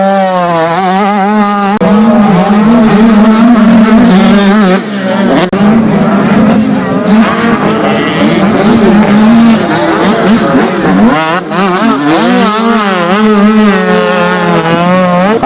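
Motocross bikes, including 85cc machines at an Ulster MX race, roar loudly past close by, their engines whining and revving up and down in overlapping waves, with no talking.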